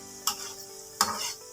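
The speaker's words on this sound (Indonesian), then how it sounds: "Kemudian kita aduk-aduk supaya karamelnya merata. Aduk-aduk seperti ini." Caramel-coated peanuts are stirred in a pan, giving two distinct scraping, rattling strokes with a faint sizzle between them, close and with no talking.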